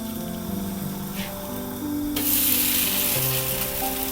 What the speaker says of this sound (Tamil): சும்மா வீட்டில் நம்ம ஊற்றுற கல் தோசை மாதிரி ஊற்றுங்க. மேலே லேசாக ஆயில் ஊற்றிக்கலாம்.